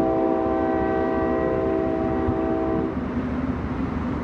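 A passenger train on a budget route to Almaty, Kazakhstan, rumbles loudly with a steady low roar and a sustained horn-like tone that cuts off near the end, leaving only the running noise.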